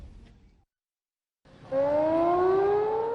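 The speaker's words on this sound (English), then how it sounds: "Sirens alerting them of a tsunami, this one in the Hokkaido area." After a brief quiet gap, a loud tsunami warning siren in Hokkaido, Japan, starts up and holds a steady, wailing tone that slowly rises in pitch, heard from a distance.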